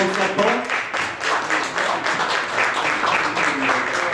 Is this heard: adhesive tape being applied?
no